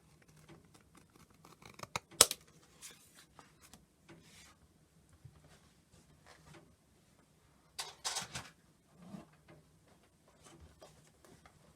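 Scissors trimming excess faux leather from a wallet cover, quiet scattered snips and rubbing handling sounds with one sharper cut early on and a small cluster of crisp cuts later, close and faint.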